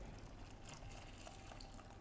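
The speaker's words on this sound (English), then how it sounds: "So now we make a hole in the center and pour the water." Half a pint of water poured into a well in the center of flour for tortilla batter, a steady soft trickle running unbroken throughout, faint and close with no talk.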